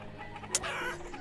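Leghorn chickens cluck in the farming game Banished: a soft chorus of short clucks, with one sharp, brighter burst near the middle, and no talking over it.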